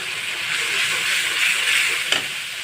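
A spice paste of turmeric, chilli powder and salt sizzles in oil in a pan, a steady bright hiss close up with a small pop near the end.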